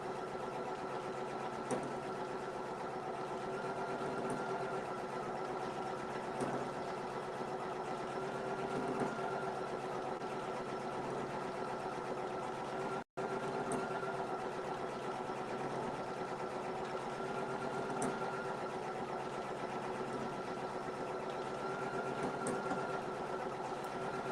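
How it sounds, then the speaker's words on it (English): An embroidery machine stitches out a small cat patch with a steady, continuous mechanical whir and faint rhythmic needle ticking, heard close and unbroken apart from a momentary dropout midway. "It's a whole lot of stitches for a little bitty patch."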